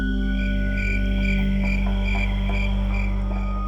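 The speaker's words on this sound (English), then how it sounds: "The sound of crickets makes this habitat feel more alive, as if we were standing in the heart of the forest" Crickets chirp in a forest habitat, a continuous chorus of rhythmic pulsing chirps repeating every half second or so over a steady low hum.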